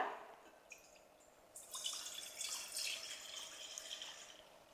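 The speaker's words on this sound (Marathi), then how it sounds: "दोन तांबे इथे मी असं पाणी ओतलंय" Water splashes and trickles steadily into a metal steamer pot, a soft liquid pour that starts faint and grows fuller partway through.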